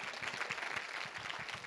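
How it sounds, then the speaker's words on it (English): A church congregation applauds steadily as a speaker comes up, with dense, continuous clapping filling the whole moment at a moderate distance. "Give him a round of applause as he comes"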